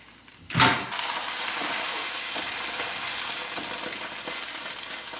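An egg white omelet with fat-free cheese hits a hot pan with a sudden sharp burst of sizzle. It settles into a steady, close frying hiss that carries on alone.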